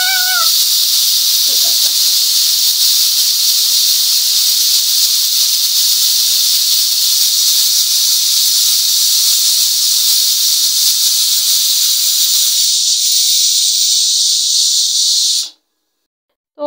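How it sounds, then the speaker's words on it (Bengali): A pressure cooker on the stove, cooking beef for korma, lets out a loud, continuous jet of steam hiss that holds steady for many seconds before cutting off abruptly, with no talk. "মাংসটা পুরোপুরি সিদ্ধ হতে আমাদের 5 থেকে 6টার মতো সিটি লাগছে"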